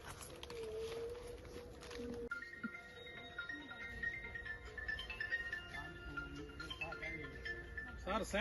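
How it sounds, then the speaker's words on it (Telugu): A phone rings on an organic mango farm, its steady tonal ringtone starting partway through and continuing over a constant outdoor hum and background noise. "సార్ శేఖర ఫోన్ చేస్తున్నాడు."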